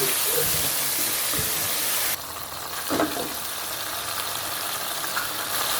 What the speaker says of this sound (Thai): ใส่ขิงแก่ลงไปครับ ตามด้วยกระเทียมแล้วก็รากผักชีครับ ผัดต่อเลยครับ